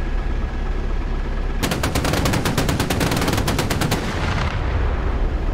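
A rapid burst of automatic cannon fire from an air defence gun in the DCS combat flight simulator, a dense string of sharp shots lasting about two and a half seconds over a steady background rumble.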